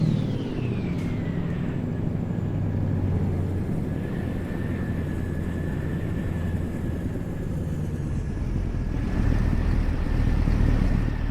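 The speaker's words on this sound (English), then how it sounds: "just rev up my engine, take out my frustrations on the engine" A heavy truck engine in American Truck Simulator droning loud and close with a steady low rumble, the pitch dropping early and then holding, with a slight swell near the end.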